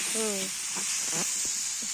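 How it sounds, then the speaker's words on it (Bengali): Rice being fried in a pan during outdoor picnic cooking gives a steady, close hiss throughout, with brief bits of talk rising over it. "চালটা একটু ভাজে দিই না,"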